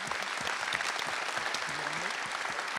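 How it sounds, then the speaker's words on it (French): An audience at a town New Year's greetings event applauds warmly, a close, continuous burst of many hands clapping with a faint voice in the background. "je souhaite qu'on t'applaudisse bien fort parce que tu fais du bon boulot"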